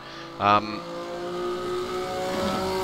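A Puma racing car engine from the Automobilista sim drones steadily through a gear, giving one sharp rev burst early on, then a sustained mid-pitched hum that climbs slightly. Someone talks over it.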